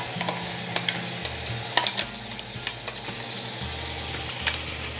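Prepared spice paste frying in hot oil with turmeric and Kashmiri red chili powder, a soft continuous sizzle broken by faint clicks of a spoon stirring.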